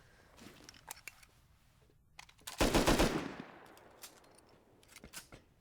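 Automatic gunfire in the survival video game Rust, a loud sustained burst of rapid shots near the middle, with scattered single shots and sharp clicks before and after.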